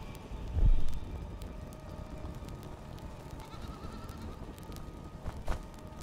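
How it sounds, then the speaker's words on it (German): Faint goat bleats in a survival crafting video game come through over a low rumble and wind noise, with one brief louder thump early on. "Ich höre Ziegen."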